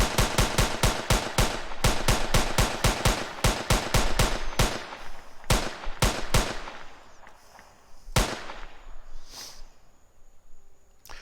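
Rapid automatic gunfire from an Unreal Engine 4 shooter, a dense burst of sharp shots for about four seconds, then a few spaced single shots and one loud final crack over a faint ambient hum.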